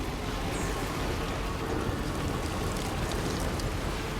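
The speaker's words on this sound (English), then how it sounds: "Man, it is for real raining out here." Heavy rain pours down in the Death Stranding 2 game world, a dense, steady wash of drops hitting the ground, continuous and loud with no pauses or voices over it.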